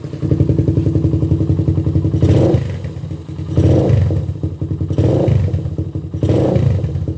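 A Suzuki Raider 150 motorcycle with a stock 26mm carburetor and racing CDI revs loudly and close, its engine rising in several sharp throttle blips over a steady running rumble.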